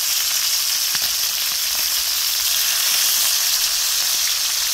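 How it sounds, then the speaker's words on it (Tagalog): Galunggong fish frying in hot oil, a loud steady sizzle with constant crackling and oil spatter throughout, no voices. "Yung talsik ng talsik ng mantika."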